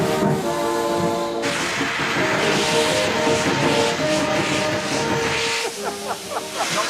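Loud, continuous steam hissing from a Victorian steam locomotive with drain cocks open, a broad roaring rush with a faint whistle-like tone underneath, close by.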